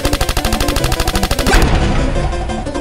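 Rapid automatic gunfire in a comedy skit, a fast regular burst of loud close shots that gives way to a noisy crash and rumble.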